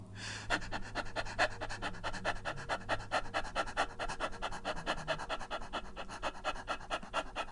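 A singing teacher's voice imitates a tired puppy panting, a steady run of quick, even breathy pants repeated close up for several seconds with no talk over it.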